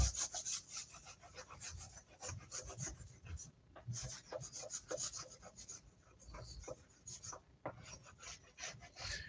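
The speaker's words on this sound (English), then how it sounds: "I think I'd just rather scrape off the paint off the top of the rails." Paint being scraped off the tops of model train track rails, a quiet, close, rasping scrape repeated in quick irregular strokes, heard alone.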